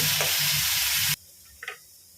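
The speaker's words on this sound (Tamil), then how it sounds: "வெங்காயம் கொஞ்சம் வதங்கினதும் பொடியாக அரிஞ்ச தக்காளி பழம் அதுவும் போட்டு" Chopped tomato drops into onions sautéing in a pan for puffed rice upma, giving a loud steady sizzle that cuts off abruptly, followed by a quiet pause and a brief scrape.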